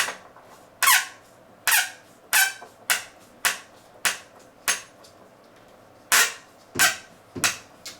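A slightly too long silver screw squeaks sharply as it is tightened into an electric piano, giving about a dozen loud, close creaks in uneven bursts with no talking.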